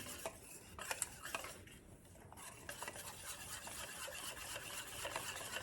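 A small whisk stirs champurrado in a pot, scraping and clicking in quick uneven strokes against the metal, fairly faint and close with no talking.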